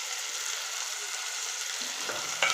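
Tomatoes and onions sauté in a pan for moong dal fry, giving a soft, steady sizzling hiss, with a few light scrapes of stirring toward the end and no talking.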